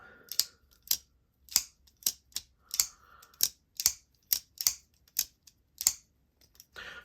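An Asher Nomad 3.0 folding knife with an axis lock is worked open and shut, giving a run of about a dozen crisp, close clicks spaced roughly half a second apart in an otherwise quiet room.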